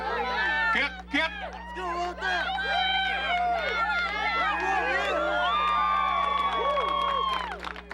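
Crowd at the 2004 Kattivik Northwest Native Trade Fair in Alaska cheers and shouts continuously through a strength game where players try to overturn each other, with a dense wash of excited voices and children's yells close by.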